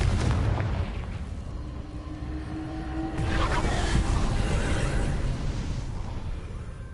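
Confringo fire-blast spell from the Hogwarts Legacy video game, a broad rumbling explosive burst with a second heavy boom around the midpoint, loud and continuous with no voices over it.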